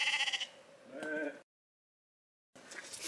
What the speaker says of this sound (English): there's a rather rude sheep.